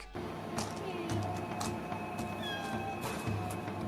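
A cat meows several times in a horror movie scene, a run of drawn-out, rising cries standing close and clear over a dull, low background rumble.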